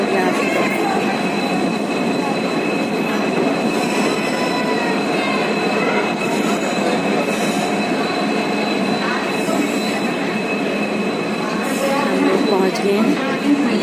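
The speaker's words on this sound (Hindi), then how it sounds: "ट्रेन यहाँ पे रुकेगी, चलेगी" A train rolls into a station in Delhi, its steady loud rumble mixed with squealing wheels and metallic screeches, with no break in the noise throughout.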